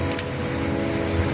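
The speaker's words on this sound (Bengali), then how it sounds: "প্রচুর বৃষ্টি হচ্ছে, বেশ জোরে," A heavy downpour pounds a rooftop in a steady, dense roar of rain that stays loud and even throughout, with no one talking.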